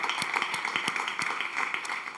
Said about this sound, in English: a big applause for you for that expert moderation